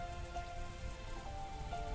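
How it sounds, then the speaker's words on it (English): Rain pounding steadily against a window in the Umineko video game, a dense continuous patter with a faint tonal hum underneath, no voices. "the obnoxious pounding of the rain against the window"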